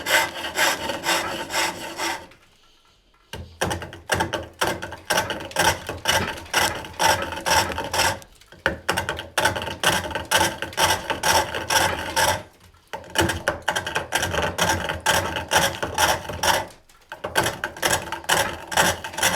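Aggressive, deep pivot cuts into wood on a foot-powered pole lathe while roughing a handle, a loud, steady run of rhythmic scraping and chattering strokes broken by a few brief pauses as the lathe reverses, no talking.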